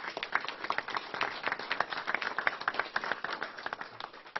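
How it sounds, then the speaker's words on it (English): Audience applause at a press briefing on the opioid crisis, dense overlapping claps at moderate level, steady and unbroken, with no voice over them. "A round of applause to Jennifer."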